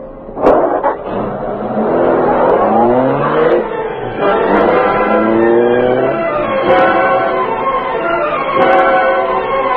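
Car engine revving and accelerating away in an old radio drama, rising gear-shift whines repeating over several seconds, loud and close.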